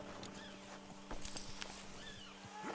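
Horse hooves clip-clop at a steady walking pace in the Red Dead Redemption 2 video game, close and clear over a low ambient hum, with faint whinny-like tones mixed in.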